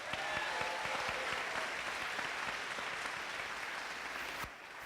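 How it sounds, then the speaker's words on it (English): Audience applause rings out at a governor's affordable housing announcement, a dense, steady clapping from a crowd that continues for several seconds before thinning near the end; fairly quiet overall. "let me give them a round of applause."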